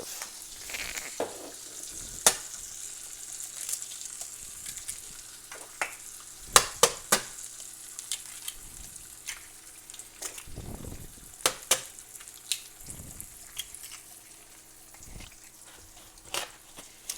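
Eggs frying in a pan while making egg bean paste: a steady sizzling hiss with scattered sharp pops and crackles, close and moderately loud, with no talking.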